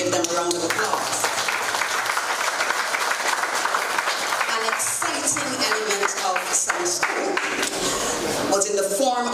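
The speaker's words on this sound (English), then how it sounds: "Give them a round of applause." Audience applause at a summer school closing ceremony, steady clapping filling the room throughout, dense and sustained with a few sharper claps near the end.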